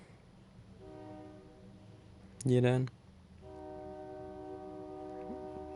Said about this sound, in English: Frickin' train just made noise